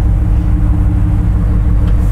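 An automatic Ford Bronco drives in reverse with a steady low engine rumble close by, loud and even throughout, with no voices.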